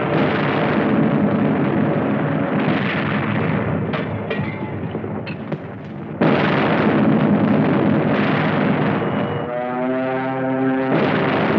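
Loud, continuous roar of artillery fire and explosions in a 1945 Burma jungle battle, with dense rumbling booms, a few sharp cracks and an abrupt surge partway through, all from a dated, noisy film soundtrack.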